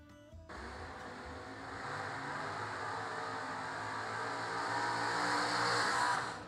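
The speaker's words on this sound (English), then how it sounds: "Step 1, burnouts complete." A drag racing car does a burnout at a drag strip, its engine holding a loud sustained roar that builds gradually over several seconds, heard from a distance with no talk.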